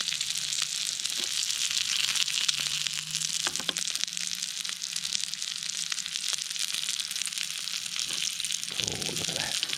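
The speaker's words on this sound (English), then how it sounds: "that is sizzling away lovely" Steady, close sizzling and crackling of a cheeseburger frying in a hot pan, a continuous hiss with occasional pops and light scraping.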